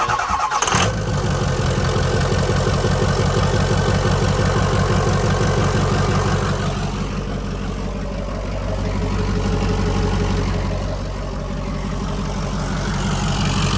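A 6.0 Powerstroke diesel in a built truck, freshly fitted with a new transmission, cranks briefly and catches, then settles into a loud, steady, rumbling idle that carries on evenly, close by with no talk.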